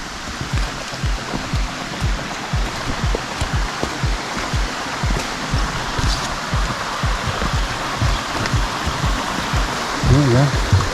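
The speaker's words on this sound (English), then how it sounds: "See? There's that waterfall. Nice little stream feeding it." Small stream running toward a waterfall on a wooded trail, with steady broadband water rush throughout and faint footsteps and trail sounds, with a brief voice-like sound near the end.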